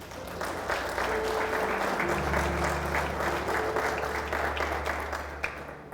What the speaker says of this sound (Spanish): Aplauda a Cristo.